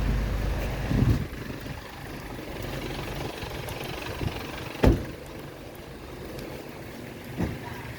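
Car engine left idling on a rainy day, a steady low rumble running throughout with a few faint knocks and clicks over it.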